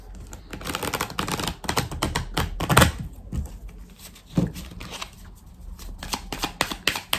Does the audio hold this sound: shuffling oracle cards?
yes